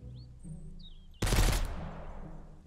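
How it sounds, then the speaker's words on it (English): Faint electronic chirps, then a sudden loud burst of rapid gunfire in the video game Mist Survival that rings out and decays with a long echo tail. "I heard more gunshots."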